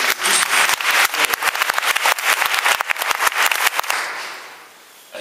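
An audience applauds the candidates of a music competition in Namur, a loud crowd of rapid overlapping claps that holds for about four seconds and then fades away.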